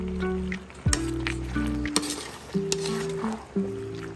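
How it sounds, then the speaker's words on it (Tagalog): Menudo stew being stirred in a cooking pot, with a soft scraping and sloshing stir under a gentle simmering sizzle and occasional clinks of utensil against the pot. "haluin lang natin"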